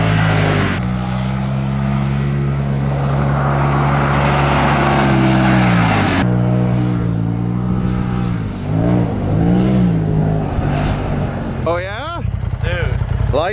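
A new Polaris RZR Pro XP side-by-side races on ice, its engine droning loud and close, pitch swelling and dipping as the throttle is worked, with people talking over it toward the end.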